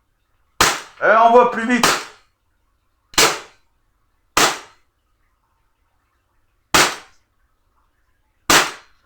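Sharp, loud pistol shots from a Taurus 24/7 G2 fired at an outdoor range, five separate cracks spaced a second or two apart, with a brief spoken remark after the first shot.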